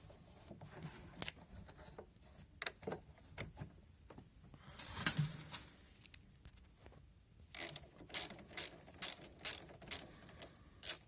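Reconnecting the negative battery terminal on a Ford B-Max: close, quiet ratcheting clicks from a wrench in short bursts, with a scraping rustle in the middle and a faster run of clicks at the end.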